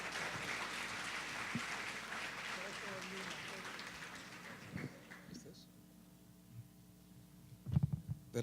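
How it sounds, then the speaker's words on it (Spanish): A church gathering applauds a guest pastor in a steady, fairly soft wash of clapping that fades midway, followed by quiet room noise and a few brief bumps. "Un aplauso, por favor, para él."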